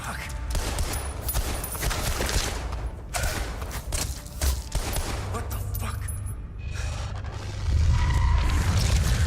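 Dense, continuous video game gunfire, with rapid overlapping shots and bursts fired at an orange weak spot, loud and sustained throughout with a few heavier booms.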